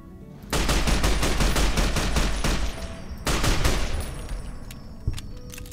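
Gunfire in Fallout: New Vegas, a loud rapid burst of close shots for about two seconds, a short pause, then another burst that trails off into a few scattered single shots.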